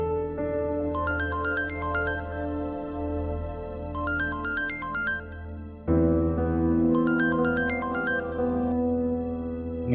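A phone ringtone plays a bright, repeating melodic pattern in three bursts over a sustained tonal backing, fairly loud and close, with no voices heard over it.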